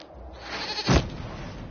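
A single goat bleat in a video game, rising and wavering, then breaking into a sharp, louder cry near the end, heard alone and close.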